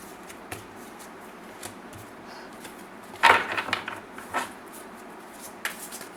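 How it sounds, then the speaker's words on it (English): Tarot cards being shuffled by hand, a brief riffling flurry in the middle followed by a few soft slaps and taps of the deck, fairly close and quiet, with no talking. "Cards are flying all over the place."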